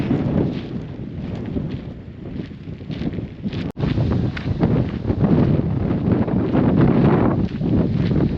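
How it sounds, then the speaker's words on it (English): Strong coastal wind on the Fisherman's Trail near Vila do Bispo, Portugal, buffets the microphone in continuous low rumbling gusts, with a brief click partway through and no talking. "It's all windy."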